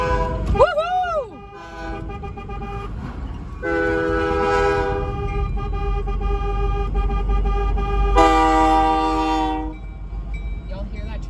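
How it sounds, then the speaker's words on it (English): A loud horn from a stationary train sounds in two long, sustained blasts separated by a pause, with rumbling ambient noise underneath and a brief whoop early on, in Saskatoon. "Y'all hear that train? He's not even moving and he's sitting there honking for us."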